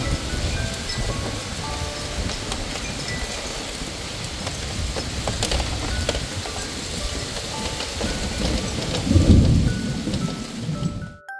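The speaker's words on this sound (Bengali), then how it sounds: "বাইরে এখন চলেছে মুষলধারে বৃষ্টি।" Heavy rain pours down steadily in Kolkata, a dense continuous roar, with deep thunder rumbling and swelling near the end before the sound cuts off.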